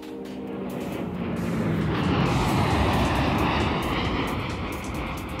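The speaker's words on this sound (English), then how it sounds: "Army fighter jet." A military fighter jet roars loud and continuously, a broad rushing engine noise that swells slightly in the middle and holds steady, with no other sounds over it.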